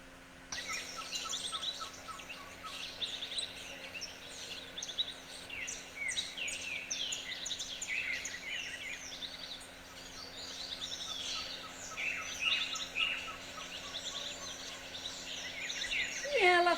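Birds sing steadily in a dense chorus of chirps and tweets against a quiet background hum, used as a sound effect in a spoken story, continuous and moderately close throughout.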